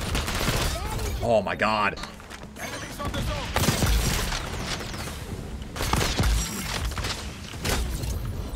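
Sniper rifle gunfire in the video game XDefiant, a few sharp shots punctuating steady game sound and music, with a player's voice talking over it.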